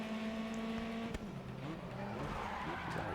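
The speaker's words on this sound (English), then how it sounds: "that car racing a little violently" Race car engine in Grid Autosport on the Nintendo Switch, loud and continuous, with tires squealing and a sharp knock partway through as the car is driven roughly.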